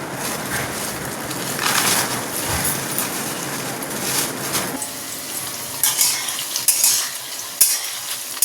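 Paneer fries in a pan with a constant sizzle while a utensil stirs and scrapes through it, with occasional sharp clinks of metal against the pan and no talking.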